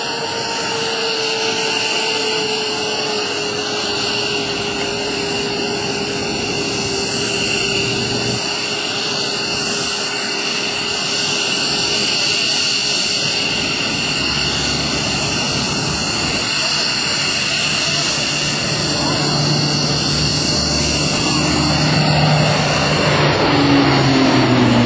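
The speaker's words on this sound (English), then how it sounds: "Now you wouldn't think a cargo plane that size would be that maneuverable" A C-130J-30 Hercules propeller cargo plane drones overhead at an airshow with a steady, loud engine hum and high whining tones, growing slightly louder near the end.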